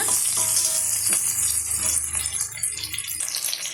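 Onion and garlic sautéing in a pan for a ladies finger kara kuzhambu, a steady close sizzle with faint stirring scrapes and some watery crackle, no talking.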